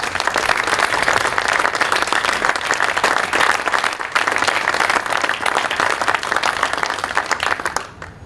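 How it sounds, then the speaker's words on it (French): A municipal assembly of mayors breaks into loud, dense applause, many hands clapping in a continuous roar that holds steady before tailing off at the end. "j'aimerais qu'on les applaudisse de nouveau"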